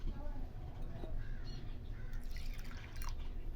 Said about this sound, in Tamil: ஒரு 2 தண்ணியில் நல்லா லைட்டாக இந்த மாதிரி இது பண்ணி கழுவிக்கோங்க.